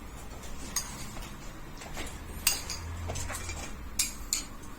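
Spoon clinks against a bowl as yacai, meat and peanuts are scooped in for Yibin burning noodles: a few light, scattered taps and scrapes over quiet room tone, no voices.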